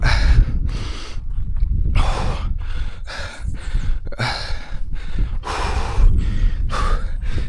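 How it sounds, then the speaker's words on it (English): A footballer catching his breath after running, with loud close heavy breathing in repeated deep gasping inhales and exhales, steady and labored, no talking. "Catch my breath a little bit."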